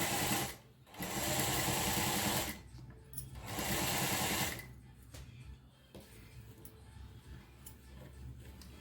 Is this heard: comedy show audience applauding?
no